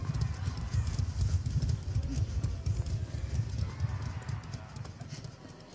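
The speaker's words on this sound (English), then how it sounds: "By the approaching fleshy thudding of his footsteps." Fleshy, heavy thudding footsteps of the Dredge killer in the Dead by Daylight video game, a rapid rhythmic series of dull low thumps approaching, with faint game ambience under them.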